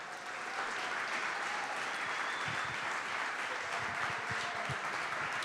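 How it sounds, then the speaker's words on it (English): Sustained audience applause for Green Bay Packers defensive lineman Karl Brooks on a live show, a dense, steady wash of clapping holding at even loudness throughout. "how about a big round of applause for our guest, Green Bay Packers defensive lineman,"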